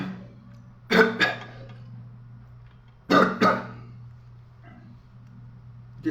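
Two close pairs of sharp, hoarse coughs from one man, spaced about two seconds apart, loud against a quiet room with a low steady hum.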